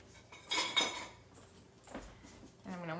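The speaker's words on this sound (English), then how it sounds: "And I'm gonna whisk this all together." Metal whisk clinking and scraping against a bowl while instant pudding mix is whisked together, a few bright taps and rattles in quick bursts at close range, with a brief voice near the end.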